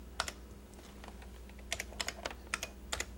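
Keys clatter on a standard AT computer keyboard in a 1980s computer demonstration, a faint irregular run of quick clicks that grows denser toward the end, with no talking.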